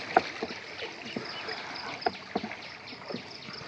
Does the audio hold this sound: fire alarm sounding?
no